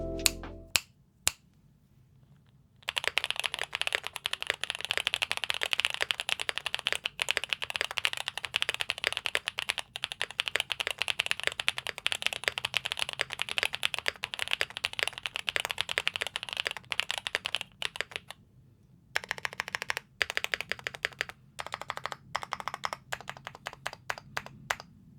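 Typing on a Chosfox Leo80 keyboard with a PET sheet fitted between the PCB and IXPE foam: a long run of rapid, clacky keystrokes, close and clear, with two short pauses.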